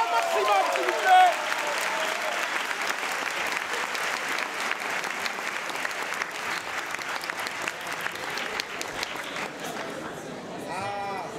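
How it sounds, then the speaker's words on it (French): An audience at an improvised-singing festival applauds steadily for over ten seconds, a broad wash of many hands clapping at moderate distance, with a voice speaking briefly at the start. "On les applaudit bien. Applaudissez un maximum, s'il vous plaît."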